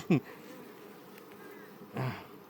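Close buzzing of honeybees at the hive, a couple of louder passes near the start and end over a low, constant hum of insects in the background.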